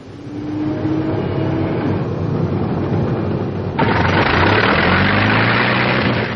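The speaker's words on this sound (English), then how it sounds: "Finish check. Starting engine." A North American P-51 Mustang's piston engine cranks and catches, building to a steady loud idling drone with a sharp jump in roar partway through, no talk over it.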